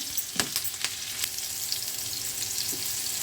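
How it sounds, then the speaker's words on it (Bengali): Green chilli, ginger, tomato and onion fry in a pan over low heat for garlic beans, a continuous bright sizzle broken by a few quick stirring scrapes near the start, close and with no voices. "কাঁচা লঙ্কা আদাটা দিয়ে দিচ্ছি টমেটো পেঁয়াজ"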